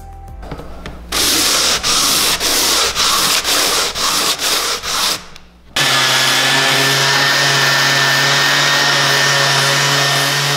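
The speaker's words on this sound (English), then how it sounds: "gonna use my orbital sander with 150 grit that's connected to my shop vac" An orbital sander fitted with 150-grit paper works over a countertop while hooked to a shop vac, starting in loud bursts of whirring with brief pauses, then running as a steady, close, continuous drone with a higher whine.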